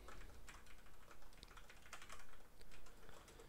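Rapid, continuous typing on a computer keyboard while code is entered, a dense close-up patter of key clicks with brief pauses between bursts, with no talking.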